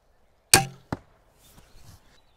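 Arrow from an 80 pound longbow: a sharp loud release crack, then a second thud as it strikes a plywood target, followed by faint rattling and shuffling noises.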